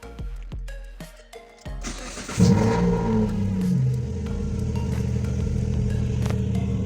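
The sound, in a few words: Proton Waja Campro CPS car engine running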